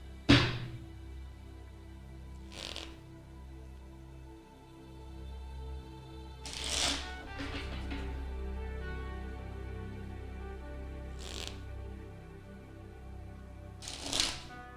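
A deck of playing cards being shuffled close by, with a few distinct riffle bursts spaced several seconds apart over a low steady background hum.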